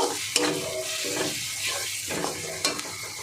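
Spices with turmeric and dried chili powder being mixed in a hot pan, a continuous close sizzle with rhythmic scraping strokes of a spatula and occasional light knocks, no voices.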